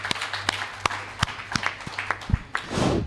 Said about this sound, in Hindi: मैं चाहता हूं उनके सम्मान में जोरदार तालियां।